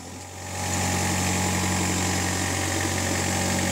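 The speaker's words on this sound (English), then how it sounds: "Rev your engine." Engine of a new Moffett rough-terrain earthmoving and agricultural machine revving up, rising within the first half second to a loud, steady, close drone that holds to the end.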